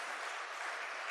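A church congregation claps during a Sunday worship service, a brief, faint, even stretch of hand clapping lasting barely over a second with no speech.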